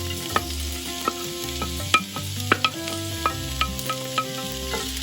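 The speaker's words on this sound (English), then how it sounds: "Once your oil is hot, you want to add 1 medium-sized onion diced." Diced onion frying in hot olive oil in a cast iron skillet, a steady close sizzle with repeated clinks and scrapes of a utensil stirring against the pan.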